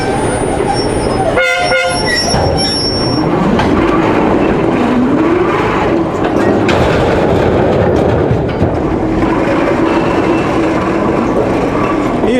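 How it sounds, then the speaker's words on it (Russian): Industrial railway train at a magnesite plant quarry hauling wagons, a loud continuous rumble of wheels and rolling stock with clanking and squeals, plus a horn-like tonal burst near the start. "И второй вагон пошел."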